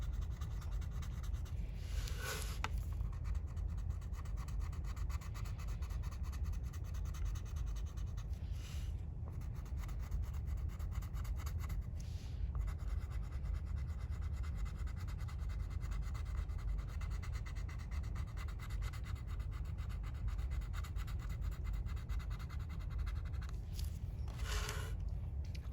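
Colored pencil shading a sphere in small circles on paper, a continuous soft close scratching and rubbing that runs steadily throughout with brief quieter pauses.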